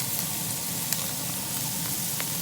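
Carrots, potatoes and celery sizzle in a pan with tender onions and bay leaf, a steady frying hiss that runs continuously with a few faint clicks and stirring sounds.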